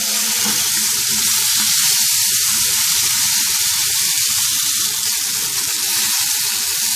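Chicken pieces frying in a pan, with a loud, steady sizzle that carries on without a break and no talking.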